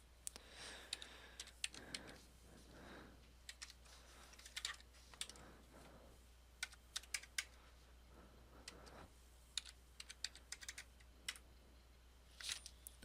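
Irregular bursts of soft clicking keystrokes on a computer keyboard, quiet and close, with short pauses between runs of typing and no voices.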